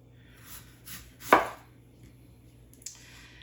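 Knife chopping vegetables on a board for a sheet pan dinner, a few soft cuts and then one sharp, louder chop, with a faint click near the end and no talk.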